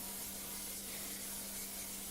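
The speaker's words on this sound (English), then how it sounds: "Spray it with a little non-stick cooking spray." Non-stick cooking spray hisses steadily from an aerosol can into a 12 by 9 inch baking pan, one continuous close spray lasting about two seconds with no voices over it.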